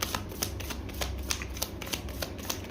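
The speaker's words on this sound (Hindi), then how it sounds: "लास्ट शफल करूँगी मैं ये" Tarot cards shuffled by hand in quick riffling bursts, a steady run of crisp, close flutters.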